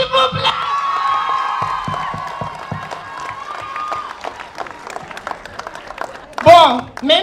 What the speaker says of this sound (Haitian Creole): Applaudissez Jenny